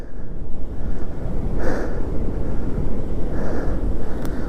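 Sea waves wash continuously onto the beach at Digha, a steady broad roar of surf with wind buffeting, swelling briefly around the middle and again near the end, with no talk.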